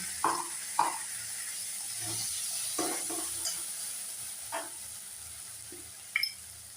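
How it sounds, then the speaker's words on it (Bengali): Spices and onion fry in a pan for an egg curry, a quiet steady sizzle broken by a few sharp spatula taps and scrapes, close by with no speech. "মশলা আর পেঁয়াজটাকে ভালোভাবে কষিয়ে নিচ্ছি।"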